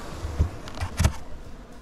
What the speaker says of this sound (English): I'd say they have a nice amount of bees in there.